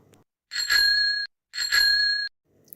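Two bright metallic rings of a bicycle bell, each a sustained trill lasting under a second with a short gap between, close and clear against silence.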